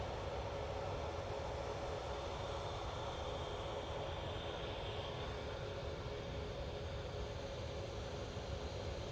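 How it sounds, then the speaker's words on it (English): A steady, broad roar of an Air Transat airliner's engines taxiing at Manchester Airport, continuous and fairly distant with a faint hum, unchanging for the whole stretch and not under any talk. "We do have the Air Transat. It's going down Tango."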